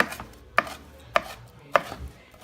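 A knife cross-cutting crab, shrimp, broccoli and potato on a cutting board, four evenly spaced crisp chops about half a second apart, close and alone.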